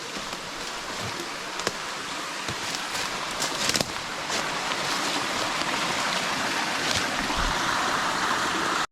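Steady broadband rush of water at a cascade on Western Creek, a constant close roar with faint splashing detail running throughout with no voices.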